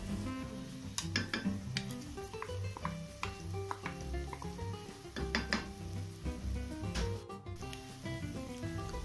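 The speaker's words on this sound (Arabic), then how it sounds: "ودلوقتي هضيف طبق عدس بجبة مغسول كويس واشوحه مع البصل." Washed brown lentils sautéing in hot oil with chopped onion and garlic in a pot, a steady close sizzle with frequent scraping and clinks of a stirring spoon against the metal pan.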